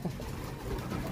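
A returned pet pigeon, a female bird, gives a brief, low, soft coo nearby over faint background noise.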